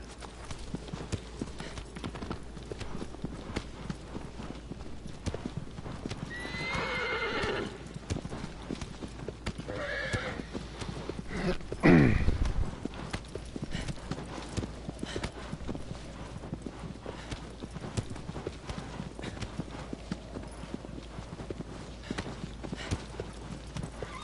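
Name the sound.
horse galloping and neighing in video game Shadow of the Colossus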